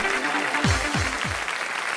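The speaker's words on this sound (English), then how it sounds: "All of the students in the auditorium start applauding Kamishiro Touko." Students fill an auditorium with applause, a dense crackle of clapping that holds steady throughout, with a few low swooping tones passing underneath.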